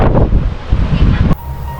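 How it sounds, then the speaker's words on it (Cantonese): Strong wind at Bells Beach, a surf spot on Australia's Great Ocean Road, buffets the microphone with a loud rumbling roar that suddenly drops to a softer hiss near the end. "Bells Beach 呢度係非常之大風啊！"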